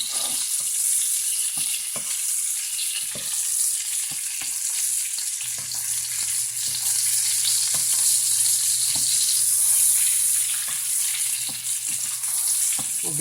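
Ocean trout sears in a hot pan, a steady bright sizzle and crackle with occasional sharper pops and stirring clicks, continuous and close, with no talking.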